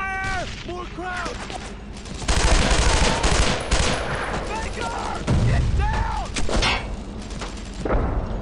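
Suppressing machine-gun fire from a squad in the WWII game Brothers in Arms, with a light tank nearby: heavy bursts of automatic fire swell and ease in waves, loud and close, while soldiers shout commands between and over the shots.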